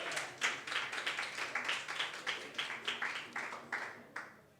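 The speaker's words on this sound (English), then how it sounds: "So we can clap for that because I think it's a big number" Crowd at a coding bootcamp demo day in Tel Aviv breaking into a short round of clapping, rhythmic steady hand claps at a moderate distance that fade out after a few seconds.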